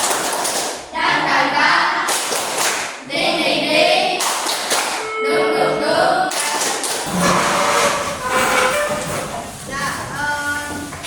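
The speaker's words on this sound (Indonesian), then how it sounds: "ayo tepuk semangat" A school class doing a rhythmic tepuk semangat clap chant in a lesson, bursts of group clapping in a patterned rhythm mixed with children's voices chanting along, fairly loud and close.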